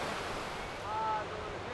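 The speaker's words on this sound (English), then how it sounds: "So we are currently at Godafoss, which is an amazing waterfall" Godafoss waterfall in north Iceland: a steady rushing roar of falling water mixed with wind buffeting, with a faint brief whistle in the middle.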